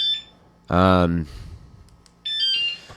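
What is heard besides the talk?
alarm on a folding electric scooter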